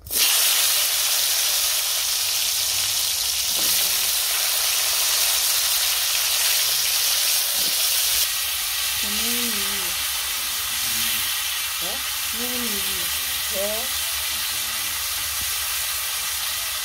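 Pointed gourd (potol) frying in oil gives a steady loud hiss and sizzle throughout, with a few faint tonal squeaks in the background.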